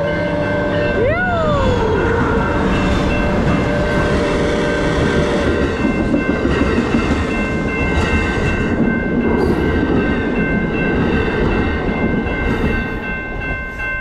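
A train passes close by alongside a beach road, loud and continuous for the whole stretch, a steady rumble of wagons with a brief falling horn-like tone near the start.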